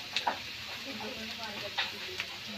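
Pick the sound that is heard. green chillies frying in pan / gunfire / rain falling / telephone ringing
green chillies frying in pan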